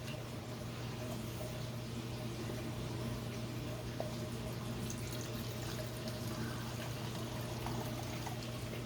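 Canadian Mist whisky pours steadily onto barbecue ribs, a continuous close liquid stream with a low steady hum underneath, no talking.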